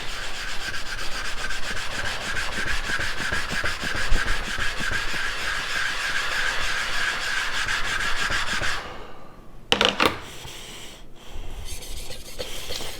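Yoshikazu Ikeda honyaki 210mm gyuto in White #2 steel stroked across a whetstone, a steady close rhythmic scraping that runs continuously, then stops with a few brief scrapes near the end.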